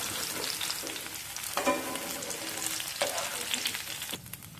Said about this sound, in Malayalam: ഒരു കഷ്ണം ഇഞ്ചി നാലായി കീറിയത് ഇത്രയും ചേർത്ത് ഇതിന്റെ പച്ചമണം പോകുന്നവരെ ഒന്ന് വാട്ടിയെടുക്കാം